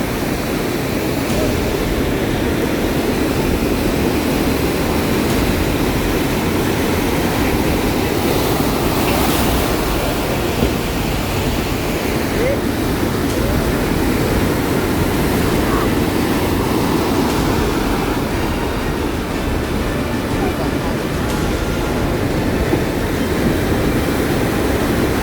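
Rough sea waves pounding the coast at Gokarna beach during a low-pressure storm surge, a continuous loud roar of surf mixed with wind noise, with no break in the wash.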